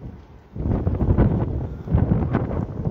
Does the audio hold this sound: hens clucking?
no